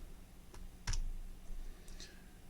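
A computer mouse right-clicks a few times while a circuit is built in simulation software: two or three sharp, faint, close clicks against a quiet room hum.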